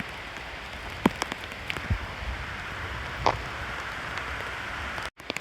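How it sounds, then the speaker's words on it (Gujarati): Rain falls steadily on a jungle trail near a river on a waterfall trek, an even close wash of drops with a few sharper taps and rustles. "વરસાદ ચાલુ થઈ ગયો છે"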